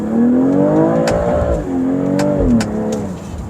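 A 2023 BMW X3 M40i, 285 kW and 500 Nm, accelerates at full throttle, its engine note climbing loudly through the revs, dipping briefly at a gear change, then pulling again close to the microphone.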